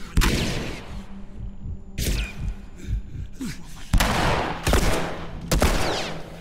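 Gunfire in The Last of Us: several sharp, loud shots in uneven bursts with echoing tails, some crowding together like a quick exchange of fire, over a low game background.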